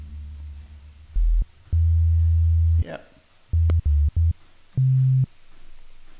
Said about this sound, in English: Okay, let's get a sine wave.